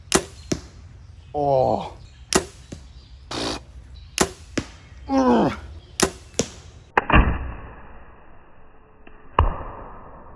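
Arrows shot outdoors at a tall weed from about 28 yards: a series of sharp, distinct thwacks and whooshes spaced irregularly, some with ringing tails, and a louder impact near the end; a brief exclamation is heard.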